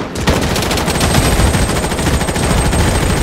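Desert Eagle pistol fire in Warzone Mobile plays as a dense, loud, continuous stream of rapid shots that runs close and unbroken from start to end.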